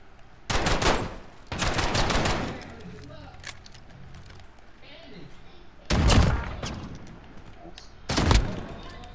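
Short bursts of automatic gunfire in a first-person shooter game crackle loudly, separated by stretches of low game ambience, with four distinct volleys spread unevenly across the stretch.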